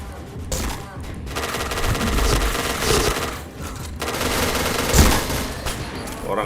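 Rapid bursts of gunfire in a shooting video game, dense automatic volleys with sharp single shots and a louder blast near the end, continuous and loud.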